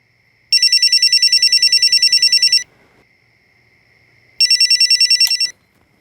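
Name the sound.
telephone ringing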